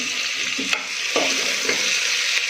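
Spices with medium-hot red chili powder fry in a pan for Gujarati fada khichdi, a constant hissing sizzle with a few brief stirring scrapes, close and loud, no voices.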